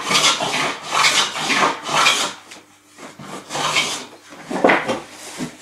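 Rasping strokes of a tool chamfering the shoulder of a wooden joint for a small wall cupboard, several close, loud bursts of rubbing with brief pauses between them and no talk.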